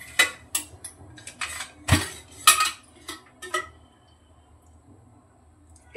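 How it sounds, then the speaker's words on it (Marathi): A metal ladle clinks and knocks against a hot kadhai as oil is poured in, a scatter of sharp, close metallic taps and one heavier clank, then quiet. "एक पळी घेऊन तेल घातलंय"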